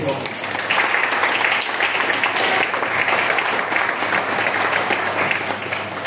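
Church congregation applauding and cheering the Lord during a sermon: sustained, dense clapping from a large crowd, steady and loud throughout, with voices mixed into the clamour.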